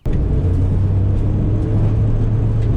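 A 1992 Acura Integra GSR engine drones steadily while the car drives, a constant low rumble and whir with little variation in pitch, close and fairly loud, with no talking over it.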